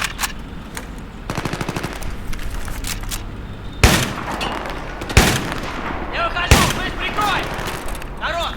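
Video game gunfire in Battlefield 3: sustained machine-gun bursts with several loud single blasts, while a voice talks in the background.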